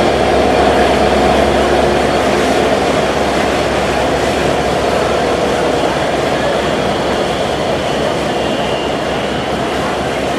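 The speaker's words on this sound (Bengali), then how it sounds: "EMD locomotive." An EMD diesel locomotive, number 6633, hauls the Panchagarh Express intercity train into Kamalapur station in Dhaka, giving a steady, close rumble of engine and rolling wagons with no talk over it.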